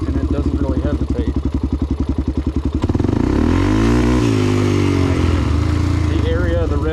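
Motorcycle fitted with an HMF exhaust, loud and close, going from a steady lumpy idle pulse straight to a wide-open rev with no hesitation, then a sustained high roar that sweeps down and back up.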